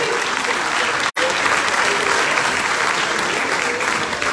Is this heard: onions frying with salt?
no